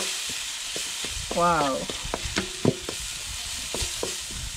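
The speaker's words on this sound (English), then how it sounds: "We have to put the cabbage because it doesn't need a lot of cooking. We are frying it." Cabbage with salt fries and is stirred in a pan in an African village kitchen, a steady close sizzle with scraping stir strokes, under a brief exclamation from a speaker.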